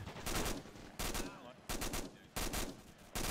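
Gunfire in the military video game Arma during the end of a mission, several short loud bursts of automatic shots spaced by quieter pauses, close by.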